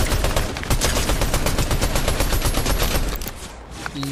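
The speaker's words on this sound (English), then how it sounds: "Where's he shooting from?" Dense automatic gunfire in the Fortnite video game, with rapid loud overlapping shots in a near-continuous burst that tapers off at the end.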